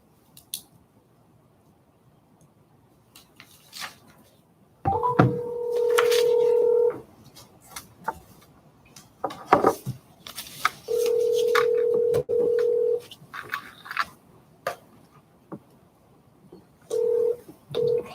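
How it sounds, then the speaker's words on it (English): A telephone is dialed during a board meeting: short bursts of keypad tones are followed by steady sustained dial-tone stretches that recur several times, all close and clear with no talking. "Let me get Red on the phone"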